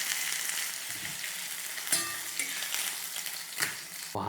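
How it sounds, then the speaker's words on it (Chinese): Chicken pieces pan-frying in their own rendered fat hiss and crackle steadily at close range, with a few brief stirring scrapes and spatter bursts standing out, and no one talking. "这个鸡肉呢我们不要把它煎到全熟了哈，你给它差不多7-8成熟就可以拿起来了"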